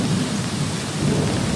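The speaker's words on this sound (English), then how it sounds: "rain, thunder." Heavy rain pours down steadily while thunder rumbles low and continuously underneath, loud and close, with no voices.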